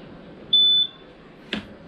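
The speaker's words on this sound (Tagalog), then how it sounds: "narinig nyo yung tunog na isang beep" Yamaha NMAX scooter remote alarm gives a single short high electronic beep, clear and close, followed by a faint click against quiet background hiss.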